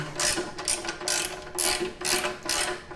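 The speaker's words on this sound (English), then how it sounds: "This one's slightly tighter, so you can use the ratchet again." Ratchet wrench clicking in five quick bursts as it tightens the skid plate bolts on a Yamaha XT1200 Super Tenere motorcycle, a close, crisp pawl rattle with brief pauses between strokes.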